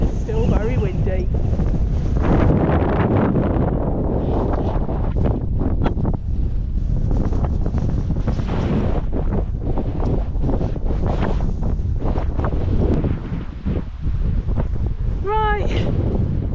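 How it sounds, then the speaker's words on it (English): Strong gusts on open Dartmoor moorland buffet the microphone with a continuous loud, rumbling roar that rises and falls for the whole stretch. A person speaks briefly beneath it. "But as you can hear, it's still very windy."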